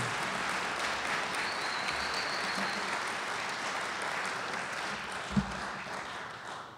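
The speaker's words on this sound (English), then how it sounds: "Shelley and Casey, may I ask you just please stand so we can give you a round of applause." An audience at an education award presentation gives a steady round of applause, a dense, moderately distant wash of clapping that continues evenly, with one brief louder knock near the end.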